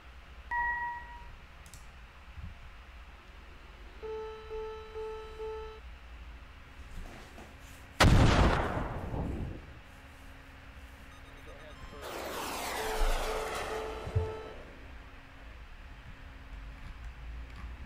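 Game sounds from Command: Modern Air/Naval Operations as missiles strike: alert dings and tones, then a loud sudden blast about midway and a second rumbling impact with ringing tones later, over low background hum.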